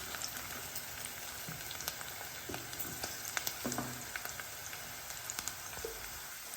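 Onions and green chillies frying in oil, a faint steady sizzle with scattered light pops and crackles, heard close but quiet, no speech.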